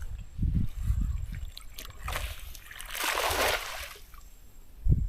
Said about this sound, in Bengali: এইমাত্র নৌকা নিয়ে পার হইলো 3-3টে নৌকা